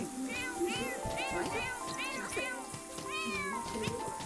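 Repeated meows from a pet cat in The Sims 4 come in quick rising-falling bursts over light background game music, with a person talking quietly underneath.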